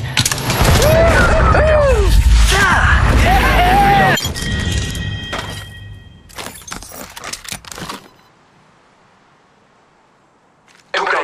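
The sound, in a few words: gunfire in the video game Apex Legends Mobile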